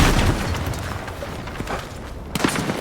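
A frag grenade explodes in the Battlefield 6 video game, a heavy rumbling boom that fades over a couple of seconds amid battle noise, followed by a smaller pop.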